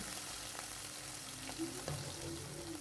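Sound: hilsa fish frying in oil

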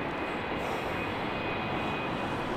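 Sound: aircraft at London City Airport

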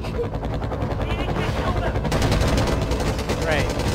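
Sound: helicopter firing its side gun, from a video game

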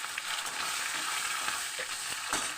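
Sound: fish head frying with radhuni seeds

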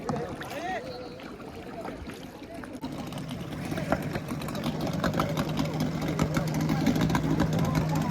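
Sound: engine-powered boat

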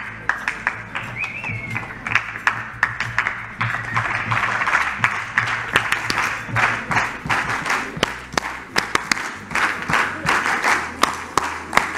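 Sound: audience applause in a lecture hall

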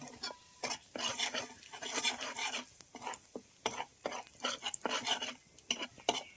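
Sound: stirring red and black chillies in hot oil in a pan

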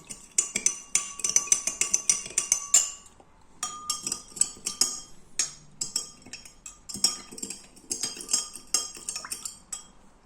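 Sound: stirring kiwi-flavoured cold drink in glass

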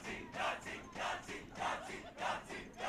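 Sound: crowd yelling at softball game

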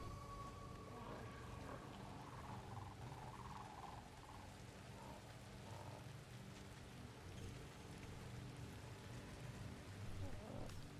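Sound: rain in a video game

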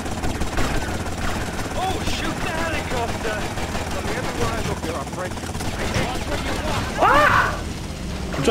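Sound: helicopter in video game Grand Theft Auto: Vice City

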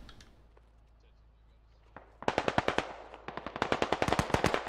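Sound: gunfire in the video game Squad

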